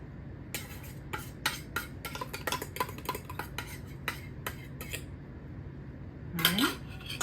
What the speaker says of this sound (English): then we're gonna mix it all up. So grab a nice wooden spoon and go to it